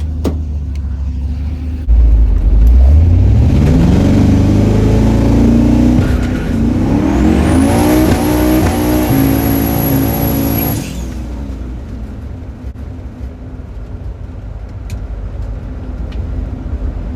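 A budget-build street race car engine revs hard during a test run, climbing loudly in pitch, holding a high whine, then dropping back to a rumbling idle that continues to the end.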